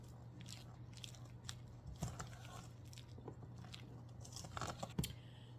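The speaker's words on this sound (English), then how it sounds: "Takes a little arm power to get it all blended and mixed well." Thick, stiff coconut macaroon batter being worked by hand, giving soft sticky crunching and squelching strokes at an irregular pace, quiet and close with a steady low hum underneath.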